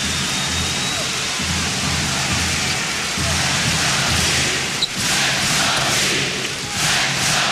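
A basketball arena crowd at a 1992 Bulls vs Heat playoff game roars in a dense, constant wall of cheering and noise, loud and unbroken for the whole stretch.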